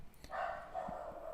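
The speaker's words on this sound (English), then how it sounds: "Apologize for the dogs in the background." Dogs bark and yip in the background of a home, faint and distant, with a few quick, thin yelps over a quiet room hum.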